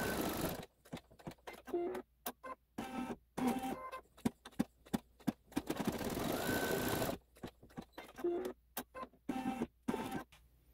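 A home sewing machine stitches the nose and eye detail lines on a Santa's Workshop Tour quilt block, running in short rapid bursts separated by brief pauses, close and clear with no talking.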